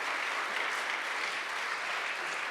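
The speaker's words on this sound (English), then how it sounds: "if folks can give her a round of applause" Conference audience applauds after a national security talk, a dense continuous wash of clapping from a large crowd, steady and fairly loud throughout.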